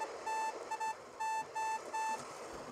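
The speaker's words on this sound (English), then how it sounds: "when I tap that, you can hear the sound of the telegraph" A telegraph beep from a homemade Morse key built from nail clippers and a broken mouse: six short and longer electronic tones tapped in an uneven Morse-like rhythm, close and clear over faint background hiss.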